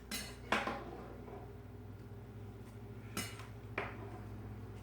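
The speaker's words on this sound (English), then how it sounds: "So I'm scooping out the last of the Gnocchis." Gnocchi are scooped from a pot of water, with a few sharp metal clinks of a utensil against the pot over low simmering background, quiet and unaccompanied by talk.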